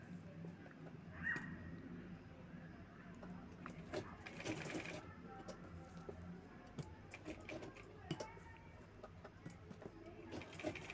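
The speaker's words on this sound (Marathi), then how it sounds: "इथे दाखवल्याप्रमाणे शिलाई करून घ्यायची आहे" A sewing machine stitches a folded fabric strip for a baby boy's kurta, a quiet close mechanical whir with light clicking of the needle, in short bursts with pauses between.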